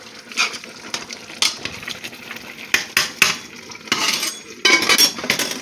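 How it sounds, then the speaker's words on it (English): Greens cooking in a pot during a soul food meal, with stirring and spoon clinks against the pot over a soft simmering sizzle, in irregular bursts close by. "So now, the greens are cooking."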